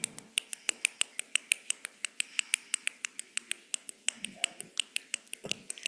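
Many people snap their fingers together during a rainstorm sound exercise at a church water communion service, producing a steady stream of sharp crisp clicks in a loose rhythm, with some faint murmuring underneath.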